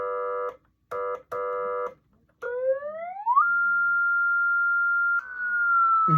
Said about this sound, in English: So this is a basic horn.